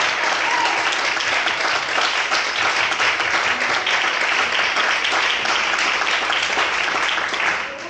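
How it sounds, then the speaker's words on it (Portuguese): A church congregation applauds during an evening worship service, a dense, steady wash of many hands clapping that holds loud and continuous throughout without a break. "Você pode aplaudir o Senhor essa noite?"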